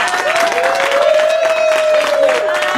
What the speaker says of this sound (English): let's give Committeewoman Kirkwood a round of applause for what she's done.